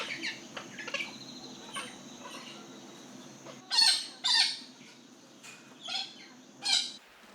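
A caged parrot lets out a run of loud, harsh squawks in spaced bursts, with a few quieter calls between them.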